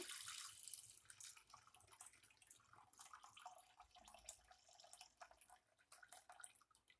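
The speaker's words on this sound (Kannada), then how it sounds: "ಈಗ ನೀರು ಹಾಕ್ತಾ ಇದ್ದೀನಿ." Water splashes and trickles steadily into a pressure cooker holding toor dal, a soft hissing pour of about half a litre with small irregular splashes, close and fairly quiet.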